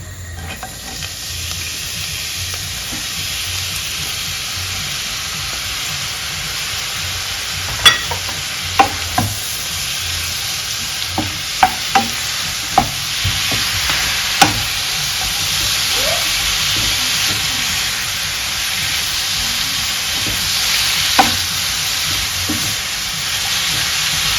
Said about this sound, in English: Let's go ahead and stir fry our zucchini.